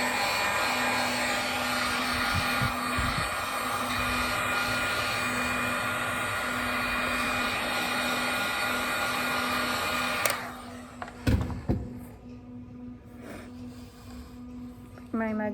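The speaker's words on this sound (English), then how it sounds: "I'm just gonna hit it with the heat gun just a little bit to firm it up." A heat gun blows steadily to firm up a soft, freshly pulled clay handle on a mug, a loud continuous whooshing hum that cuts off partway, followed by a few knocks and quieter handling.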